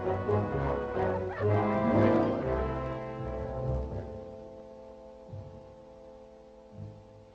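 Sled dogs on rough trail in an old 1953 film serial bark and yip repeatedly, fairly close, over a steady tonal musical background that lingers after the barking fades.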